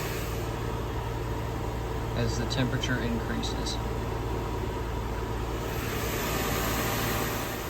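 A car engine idles in the background as a steady low hum and airy whir, with a person talking over it for a moment before the engine continues alone.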